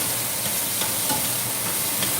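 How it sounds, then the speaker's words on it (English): Blue crab and crawfish fry in a hot pan, giving a loud, steady, close sizzle with faint crackles and no voices. "Y'all hear that sizzle?"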